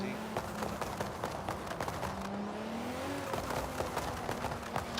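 Porsche 906 Carrera 6 engine in Forza Horizon 5 revving high with turbo spooling, a sustained droning engine tone rising and dropping in pitch, mixed with rapid clattering game noise and someone talking over it.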